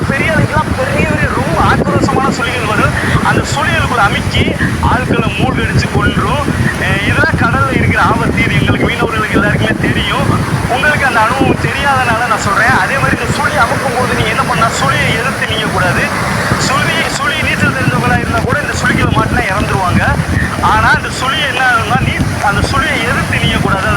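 Wind buffets the microphone steadily at the seashore while small waves wash in, with a continuous rushing roar throughout and a person talking over it.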